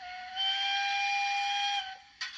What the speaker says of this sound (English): Medium whistle 3.